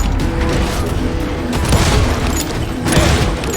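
Gunfire and booming shots in the Western shooter game Call of Juarez Gunslinger, a loud continuous fusillade of overlapping blasts with mechanical clatter, dense throughout with a few stronger bursts.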